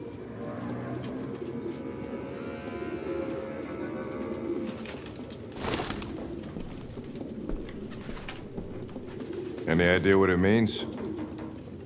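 Pigeons coo in the video game Detroit Become Human, soft repeated calls under a spoken voice, with a louder burst of cooing near the end.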